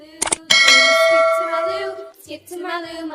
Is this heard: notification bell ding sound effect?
yes